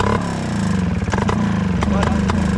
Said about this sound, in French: Là, je peux accélérer comme je veux, vous voyez, il se passe rien du tout.